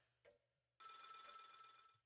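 Telephone in a Roblox horror game, a soft click and then a loud, trilling bell ring lasting over a second, otherwise quiet.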